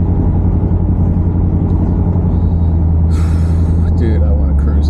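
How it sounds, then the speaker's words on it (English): An old barn-find Buick engine, long left sitting, idles with a loud, steady low rumble up close, joined by a brief hiss near the end. "This car sounds good."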